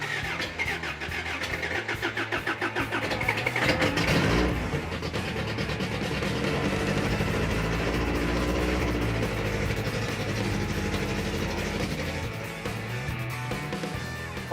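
A car's 350 V8 engine cranks briefly, catches and fires up, then settles into a loud, steady rumbling idle that continues to the end.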